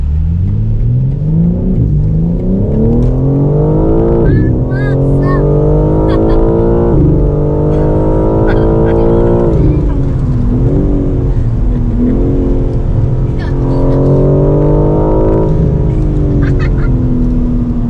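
A car engine revs hard through repeated rising sweeps, loud and close, with brief gear-change dips between pulls.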